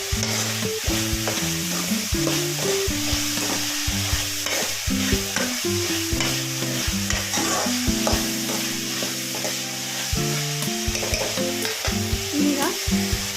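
Bitter gourd curry cooks in a pan, a loud close sizzle beneath busy rhythmic stirring and clattering spoon strokes with tonal metallic scrapes.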